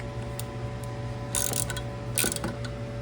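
Hand ratchet tightening the carburetor back onto a weed-eater powered bike, with quick clicking ratchet strokes and a couple of louder metallic bursts over a steady low hum, close up and without talk.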